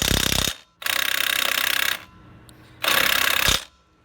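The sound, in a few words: Powerbuilt 20V cordless impact wrench turning a lug nut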